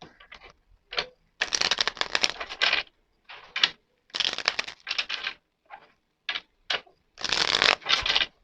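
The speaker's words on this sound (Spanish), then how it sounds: "Voy a echar 5 cartas para Ucrania y 5 para Rusia" Cards being dealt for a tarot reading, heard as a run of separate crisp slaps and swishes in an uneven rhythm, close and clear with quiet gaps between them and no talking.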